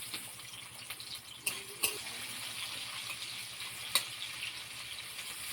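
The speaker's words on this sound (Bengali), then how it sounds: "তো দিয়ে দিব আমি তেল, তারপর দিব পেঁয়াজ কুচি" Chopped onion frying in oil in a pan for a thin Bengali katla fish curry, a steady soft sizzle throughout with a few brief clinks and stirring knocks, no talk.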